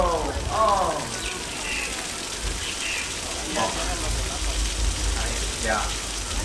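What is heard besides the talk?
rain falling on the Universal Studios tour set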